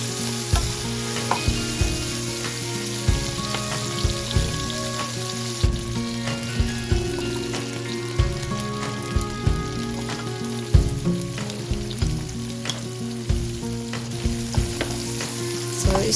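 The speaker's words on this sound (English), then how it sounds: "Then when the oil is hot, add one half onion or onions" Sliced onion fries in hot oil in a pan, a loud, steady crackling sizzle up close with regular stirring scrapes and clacks repeating throughout, no talking.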